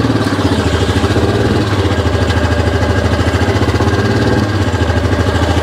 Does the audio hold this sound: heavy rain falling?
no